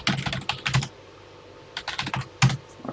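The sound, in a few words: typing on a computer keyboard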